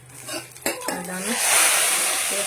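Hot tempering (oggarane) is poured into a Mangalorean cucumber sambar, starting with a clink of utensils and a sharp splash, then swelling into a loud, close, steady sizzle.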